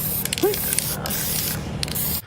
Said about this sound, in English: It's like spray paint.